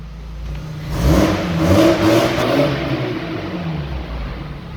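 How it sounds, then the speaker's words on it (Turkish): Seat Leon Mk1 engine running steadily with a throttle blip and rising rev around the middle, a close mid-pitched hum and whir that settles back to a constant idle. "Hala gürül gürül çalışıyor araba."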